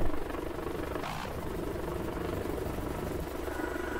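A jet in VRChat takes off, its dense engine roar sustained and loud throughout, with a brief rising whoosh about one second in.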